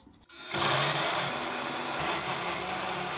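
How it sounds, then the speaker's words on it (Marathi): After a short quiet moment, an electric mixer grinder grinding a wet masala paste with water starts up and whirs loudly and steadily with a buzzing motor hum. "आणि एकदा परत फिरवून घेऊ मिक्सरला."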